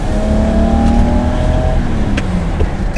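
A BMW 540i engine revs loud and close in one sustained pull, its tone sliding gradually lower before a short tail of roar.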